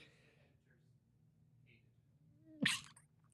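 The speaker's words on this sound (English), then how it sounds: "Let me sneeze real quick." A single sharp sneeze bursts out near the end, after a few seconds of quiet breathing and faint background.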